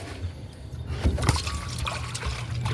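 Water pours and trickles steadily close by into a dog's bowl, a continuous splashing stream with a low background hum.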